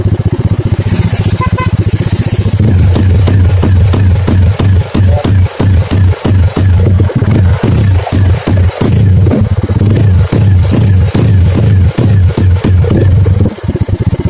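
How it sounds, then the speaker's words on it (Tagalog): A Rusi Sigma 250 motorcycle engine runs loud and close, sputtering unevenly with irregular dropouts and pops, idling rough for the whole stretch. "napansin nyo po yun na parang pumupugak yung motor ni sir."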